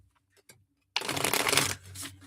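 Tarot cards shuffled by hand, a couple of brief soft taps and then a dense, continuous riffling rush lasting about a second that fades into lighter rustle.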